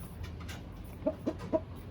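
Chickens at a rooster farm give three short, soft clucks in quick succession over a steady background hum, faint and slightly distant.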